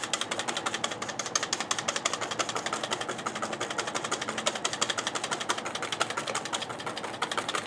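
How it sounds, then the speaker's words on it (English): An electric mixer whisks eggs, sugar, vanilla bean and citrus zest, giving a steady, fast-pulsing mechanical whir that runs without a break and sits close and fairly loud. "You mix. Give a nice texture to the eggs and the sugar."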